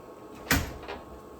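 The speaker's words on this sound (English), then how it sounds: "He's still trying to push the screen door open and come out here." A dog pushes against a screen door, giving a single soft thump and rattle of the door frame, then a fainter second bump, heard close in an otherwise quiet room.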